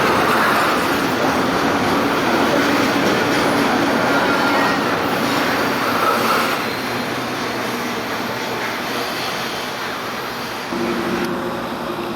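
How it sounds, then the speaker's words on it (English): A General Electric diesel locomotive's prime mover drives a CSX freight train on Sand Patch Grade, a loud, steady, heavy rumble with rail noise that holds throughout and shifts in tone near the end. "the unmistakable sound of a General Electric prime mover could be heard sneaking up behind"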